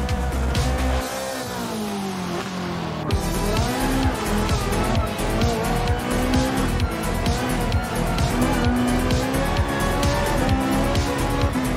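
Race car engine roaring at full throttle in Gran Turismo 7, a Porsche road car racing against GR1 prototypes, with high revving pitch sweeps through gear changes and tire squeal, loud and continuous throughout.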